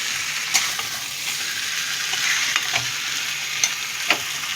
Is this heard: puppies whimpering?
no